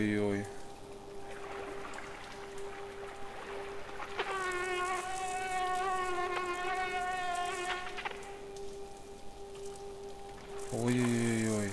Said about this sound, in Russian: Эти ужасные звуки, которые издают насекомые.